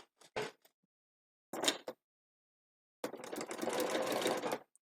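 A sewing machine stitches along a straight line in three bursts, two short and then a longer steady run of close, rapid mechanical clatter with silence between.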